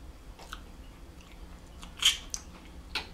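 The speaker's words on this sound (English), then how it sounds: "I'd like to be able to taste my seafood" Crab legs from a seafood boil being eaten up close, with soft chewing and a couple of sharp crunchy cracks of shell between quieter bites.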